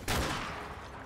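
A short burst of rapid gunfire rattles out in a Call of Duty: Modern Warfare 2 Remastered firefight, one loud volley that quickly decays into echo.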